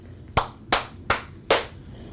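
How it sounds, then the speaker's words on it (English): One person claps four times alone, slow, evenly spaced and close. "I'm the only one clapping?"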